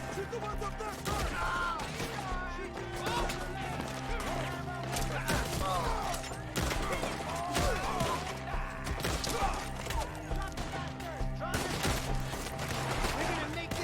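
A shootout in the video game Red Dead Redemption 2 brings dense, repeated gunfire with loud shots cracking throughout, mixed with game voices and background music.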